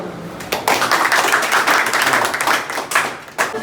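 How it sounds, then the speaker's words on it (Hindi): A classroom of students claps for a Class 10 pupil who recited the chemical elements, a dense burst of applause lasting several seconds and fading out at the end. "इनके लिए तालियां।"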